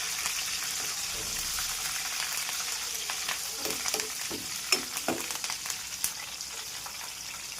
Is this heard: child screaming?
no